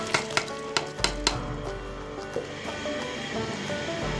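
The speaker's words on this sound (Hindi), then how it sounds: "ये देखो पानी अभी उबल रहे हैं" Water boils in a pressure cooker while haleem lentils and rice are added, with a bubbling, sizzling wash under a series of sharp metallic knocks and clinks from a spoon against the pot, close and moderately loud.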